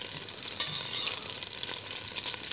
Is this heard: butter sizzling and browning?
yes